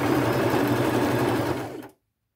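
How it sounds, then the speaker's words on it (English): Sewing machine stitching on a flannel shirt, a loud steady close whir that runs continuously and then stops, leaving silence. "Now I'm going to sew on the outside of the stitch I just made."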